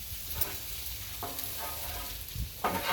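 Chicken and pork fried rice is stirred on a Blackstone griddle, with a steady sizzle underneath and a few scraping spatula strokes.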